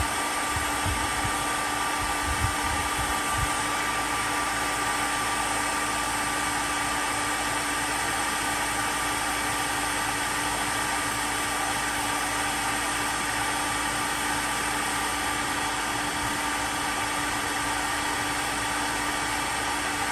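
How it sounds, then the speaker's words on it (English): A hair dryer blows continuously at close range, a loud steady whirring hiss with a constant hum, no voices over it. "And get this hairdryer going."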